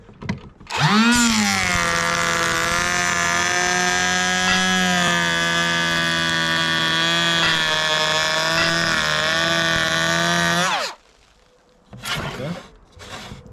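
A cordless Dewalt power tool on a fully charged 5Ah battery at maximum setting cuts into timber, spinning up with a rising whine into a loud, steady high-pitched buzz for about ten seconds, then stopping abruptly before a brief voice.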